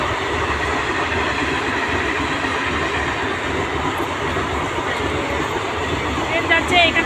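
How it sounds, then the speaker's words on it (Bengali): A train rumbles past on rail tracks beside paddy fields and a pond on a late afternoon outing, a steady loud broadband roar with faint wheel clatter and a brief high squeal near the end, with no voices. "এই দেখো ট্রেন যাচ্ছে"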